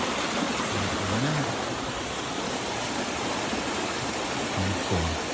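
A river stream splitting in two at the Anugerah Alam campsite, Sungai Batangsi, rushes in a steady, dense broadband roar, close and continuous, with faint voices murmuring underneath.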